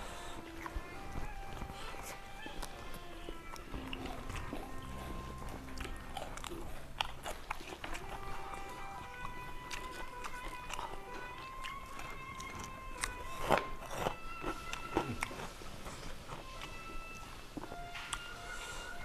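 Close, crisp crunching and chewing of karedok, a Sundanese raw vegetable salad with raw leunca, repeated bites and chews throughout amid faint background sounds and no clear speech.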